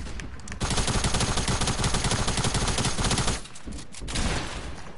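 Rapid automatic gunfire in a multiplayer shooter rattles out in a dense, loud burst as a player fires at a wall, stopping abruptly and then giving way to a quieter trailing rumble.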